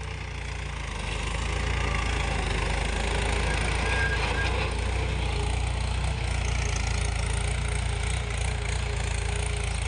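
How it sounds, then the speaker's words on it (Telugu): A tractor ploughs a field for sowing ragi, its engine a steady, moderately distant low drone that holds throughout without pause. "ఇప్పుడైతే చూడండి ట్రాక్టర్ ఎలా దున్నుతున్నారు."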